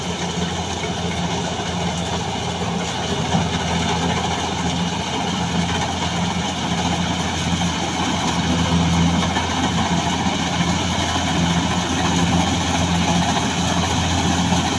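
A Kubota DC70G Plus combine harvester engine runs continuously at a steady, loud drone, low and unchanging, with no voices over it.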